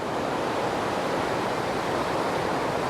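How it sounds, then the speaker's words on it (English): Water flows steadily through a remote natural spot in Wisconsin, a broad even rushing hiss that stays constant and close, with no voices over it. "The sound of this water just makes me tired."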